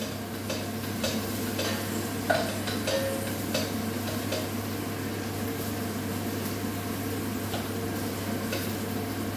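A spoon stirs pork with olives, peas and onions in a pan, giving soft scraping ticks against a steady background hum with no talk.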